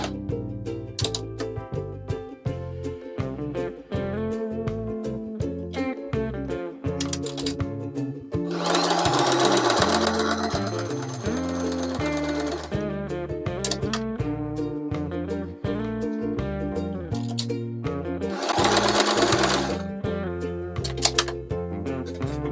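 A sewing machine stitches through denim while mending jeans, running in steady bursts of rapid rhythmic stitching with brief pauses between runs, close and fairly loud, with no talking.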